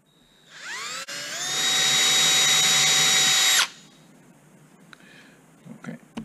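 A power drill reams holes in an aluminum vertical stabilizer part for an RV-14A aircraft kit, spinning up and holding a loud high whine for about three seconds, then stopping, followed by faint clicks and handling noise.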